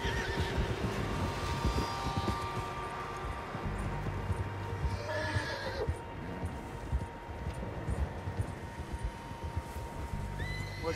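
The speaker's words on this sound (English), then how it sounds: "Horses, quite a few of them." Horses in Red Dead Redemption 2 whinny and neigh over a steady outdoor game ambience, with hoof sounds mixed into the continuous background.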